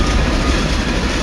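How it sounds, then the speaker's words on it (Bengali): A train arrives at a station, heard as a loud, close, continuous rumble of wheels and carriages rolling along the rails, with no voices. "ট্রেনটা এসে আমার সামনে দিয়ে খানিকটা এগিয়ে থামাবার আগেই"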